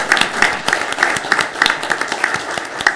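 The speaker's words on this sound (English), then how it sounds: "let's give them a round of applause" School audience applauding an alto choir group, brisk clapping with prominent close-up claps in a quick repeating rhythm over a fuller crowd.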